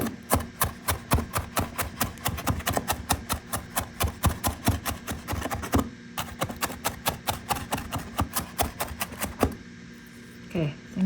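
A cleaver chops pork and cabbage filling for steamed buns on a board, rapid evenly spaced sharp knocks in long runs with brief pauses, close and clear.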